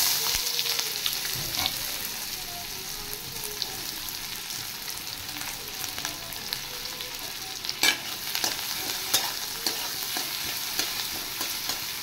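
Chopped onion frying in a pan after eggs were cooked, a steady close hiss of sizzling oil with light scraping and occasional taps of a spatula stirring, continuous throughout, no voices.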